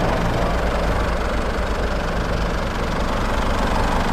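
The VGS turbo diesel engine of a nine-year-old Isuzu D-Max X-Series pickup idles steadily, a dense low rumble with constant vibration and no change in pace throughout.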